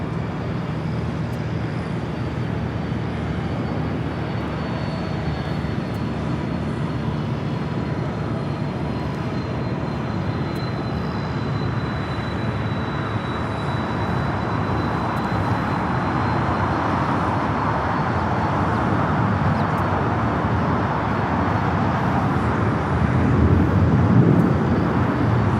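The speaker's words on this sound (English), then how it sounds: "This is Air Tahiti Nui Flight 8, 7879 Dreamliner coming in from Papa Ete." An Air Tahiti Nui Boeing 787-9 Dreamliner arrives at Los Angeles LAX, its steady jet roar building slowly over nearly half a minute with a faint high whine, loudest near the end, amid broad airport background noise and no talk.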